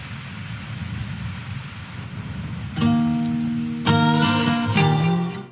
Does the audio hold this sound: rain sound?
yes